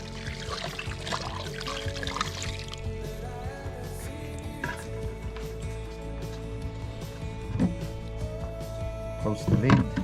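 Water poured into a cooking pot over pork cubes seasoned with salt and pepper outdoors, a splashing, trickling pour in the first few seconds while a voice talks over it.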